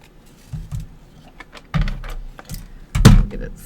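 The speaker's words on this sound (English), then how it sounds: "Let's cut that up." Scissors cut through paper for a floral background craft: a few short, crisp snips, spaced roughly a second apart, sounding close and alone with no talking.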